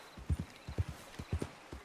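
Horse hooves clip-clop at a steady trotting rhythm in the video game Red Dead Redemption 2, sounding close, clear and moderately loud with no talk over them.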